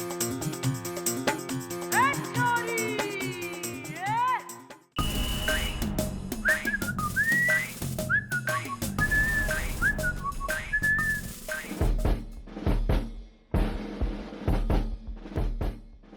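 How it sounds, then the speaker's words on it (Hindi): A person whistles a bright, sliding tune with rising and falling notes over a busy music bed in a police station comedy scene, with the whistling repeated in short phrases, fairly loud and clear. "ये जो सीटी दोबारा मैंने सुन ली ना"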